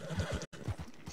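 A horse in the video game Red Dead Redemption 2 neighs and snorts in a close, loud, breathy whinny, with a brief dropout midway.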